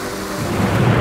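Heavy rain pouring down at Dassam Falls near Ranchi, Jharkhand, a steady, loud, dense wash of noise that swells slightly toward the end, with no voices.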